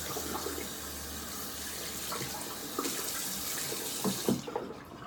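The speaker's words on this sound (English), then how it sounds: "just rinse out this brush" A shaving brush being rinsed under a running bathroom tap: a steady, close hiss of flowing water with faint splashes and sloshing toward the end, no talking.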